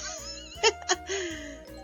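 A short cat meow with rising and falling pitch over looping game music with a steady beat, plus two brief bright clicks, from the video game Night Tails.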